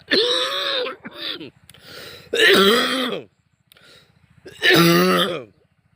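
A person who is unwell coughing and clearing the throat: three strained, rasping bursts up close, each about a second long and separated by short quiet gaps, with no other sound.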